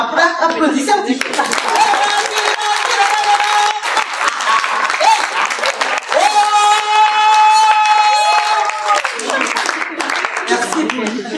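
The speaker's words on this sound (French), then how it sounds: "Après, applaudissez un petit peu." An audience at a talk on shamanism and holistic health bursts into steady, loud applause that fills the room for over ten seconds, with some cheering and laughter mixed in.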